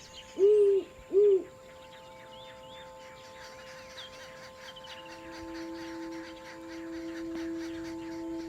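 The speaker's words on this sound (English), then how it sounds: "The great horned owl's plumage combines shades of grey, brown, and mottled spots like decaying tree bark" A great horned owl gives two deep, clear hoots in quick succession near the start, and then a faint, steady outdoor hum continues alone.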